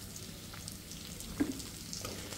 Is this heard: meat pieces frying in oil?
yes